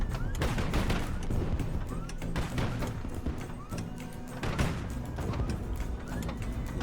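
Ship gunfire in the Highfleet video game: dense, continuous volleys of booming shots and thuds at steady loudness throughout, with overlapping bursts and no speech.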